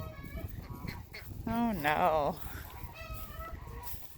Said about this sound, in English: So these are some cayuga ducks who they've been able to swim through the fence